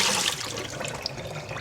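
Water pours out of a container in a steady, full gush, loud and close, a continuous splashing rush with no voices.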